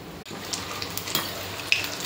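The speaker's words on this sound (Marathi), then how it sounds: "याच पद्धतीने बाकीचे जे पकोडे आहे ते तळून घेऊया" Paneer pakoras deep frying in hot oil, a soft, steady bubbling sizzle at moderate distance with a couple of faint clicks, no voices.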